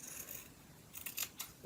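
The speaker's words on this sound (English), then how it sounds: "You can either take your scissors and" Scissors snip through t-shirt fabric being cut into yarn, a few quick crisp cuts close by near the end after a quiet start.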